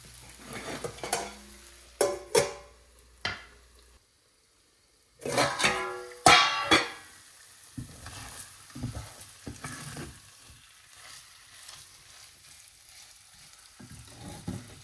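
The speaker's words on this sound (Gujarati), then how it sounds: "કેવડો ધીમા તાપે ચડવા દેવાનો" A potato chevdo cooks on a low flame in a pan and is stirred, giving crisp, close scraping strokes and a light sizzle. The sound pauses briefly, then the stirring resumes in bursts.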